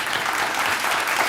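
Studio audience applause on a Georgian talk show, a steady wash of clapping holding at even loudness throughout, no voices over it.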